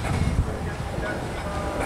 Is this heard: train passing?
yes